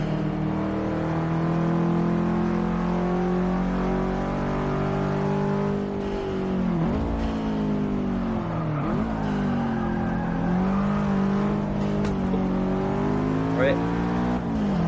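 Race car engines in Forza Motorsport 6 drone and rise through gear changes, loud and continuous with brief dips as revs drop, with someone talking over the noise.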